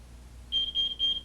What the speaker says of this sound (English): And the environmental alarm.